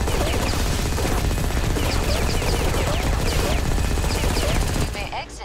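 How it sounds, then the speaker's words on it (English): A heavy machine gun on a dreadnaught battleframe fires armored shells in a video game, a loud, rapid sustained burst of shots that cuts off near the end. "machine gun is the primary weapon of the dreadnaught class and fires armored shells at a high rate of speed"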